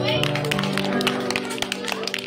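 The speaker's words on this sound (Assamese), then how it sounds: "ৰিয়ানৰ কাৰণে হাত চাপৰি দিয়া" Children in a school mathematics classroom clap together for a classmate, a rapid scattered patter of small hands beneath a teacher's voice and a steady background hum.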